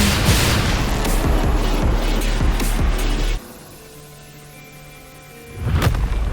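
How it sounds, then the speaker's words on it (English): A heavy explosion booms through a game scene in Wuthering Waves, a loud, dense roar lasting a few seconds that cuts to a quiet hum before another sharp blast bursts in near the end. "What caused the explosion?"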